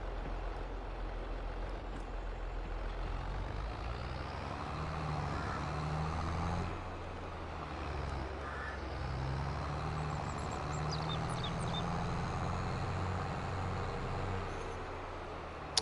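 Truck in the video game Farming Simulator 22 driving steadily with a continuous low engine rumble, a brief dip midway as it brakes, then carrying on, with no talk over it.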